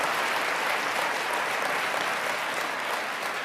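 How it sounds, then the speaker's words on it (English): A large audience applauds loudly, a dense and even wash of many hands clapping that stays strong for about three and a half seconds with no talking over it. "Give yourselves a round of applause."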